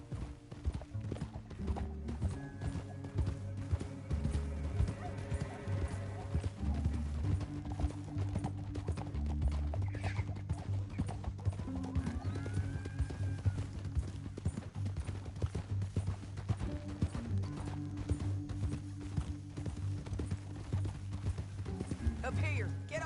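Horses galloping in Red Dead Redemption 2, a continuous rapid clip-clop of hooves with occasional whinnies, set under a low musical score and voices talking.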